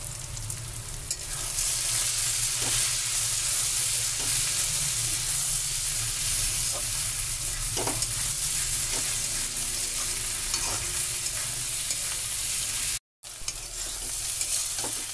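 Tilapia and flat beans sauté in hot oil in a pan, a steady close sizzle and hiss running throughout with occasional faint stirring scrapes and a brief dropout near the end.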